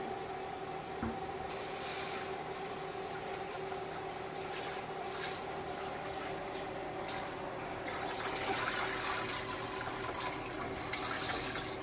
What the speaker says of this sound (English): Take this pan over to the sink, give it a rinse out to get all that debris out